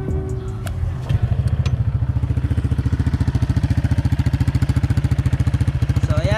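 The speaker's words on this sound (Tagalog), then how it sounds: "ito yung tunog niya kapag may silencer ang V-Lane muffler na gamit ko" A Honda PCX scooter fitted with a Villain muffler and silencer idles with a rhythmic, thumping exhaust putter, loud and close, with a quick blip early on before settling into a steady pulse.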